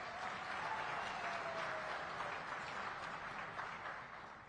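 Steady applause from a seated audience at a regional heads-of-state summit, a soft, even wash of clapping that holds for several seconds and tapers slightly at the end, with no talk over it.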